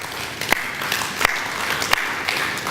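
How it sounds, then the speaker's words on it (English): A church congregation claps, a full, continuous patter of many hands with a few sharper, louder claps standing out at irregular moments. "Let's give a hand clap to Jesus."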